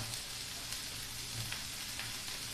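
Onions, green chillies and curry leaves fry in a pan for a Kerala ulli theeyal, giving a steady, close sizzle with faint crackles throughout and no talking.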